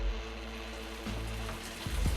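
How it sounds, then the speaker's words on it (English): Rain falls steadily outdoors as a soft, even patter with a constant broadband wash, close-ish and moderately loud, with a few low thumps near the end and no voices. "Watching the rain with my cat."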